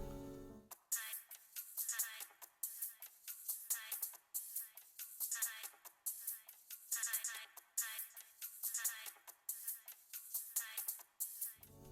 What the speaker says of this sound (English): The percussion is made up from two elements, a high-pass bongo loop and then a hi-hat